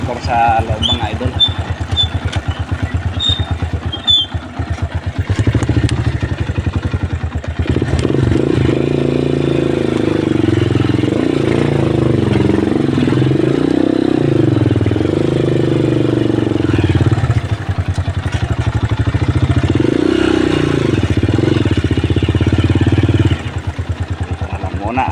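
A motorcycle engine runs steadily and loudly on a rural dirt road at a new subdivision, with a constant low drone throughout and someone speaking over it.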